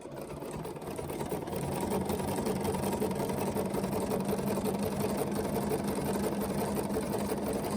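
A Bernina jumbo bobbin sewing machine stitches in a steady, continuous motorised whir with a fast mechanical rhythm, close and fairly loud, with no talking.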